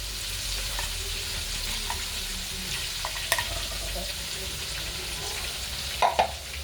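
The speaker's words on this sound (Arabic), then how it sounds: "هنشوحها كده شويه." Minced onion sautéing in a pot as the base for a seafood soup gives a steady close sizzle with a few stirring clinks and taps, no talk.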